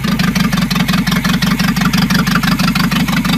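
A carbureted 2.0-litre Renault 18 engine runs steadily nearby at idle, with a loud, even, fast-pulsing rumble after the distributor timing is retarded and the air throttle plates are opened wide.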